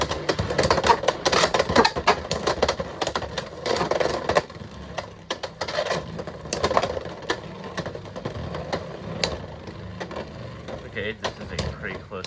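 Beyblade spinning tops clashing inside a battle stadium, a rapid clatter of sharp metallic clicks and knocks, dense at first then thinning out, with a voice talking over the action.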